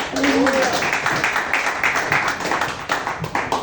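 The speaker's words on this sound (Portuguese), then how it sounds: "Você pode louvar a Deus com as suas palmas?" Worshippers in a church clapping their hands in praise, a loud, rapid, sustained patter of many hands with voices mixed in.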